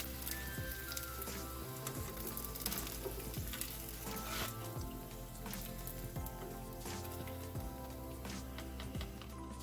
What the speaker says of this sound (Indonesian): Kita akan goreng ini sebagian pempeknya. Nah, kita goreng sampai garing.